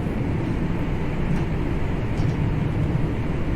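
Class 323 electric multiple unit running on the Glossop line in Train Sim World 5, a steady broadband rumble and rolling hum without breaks, moderately loud and even throughout.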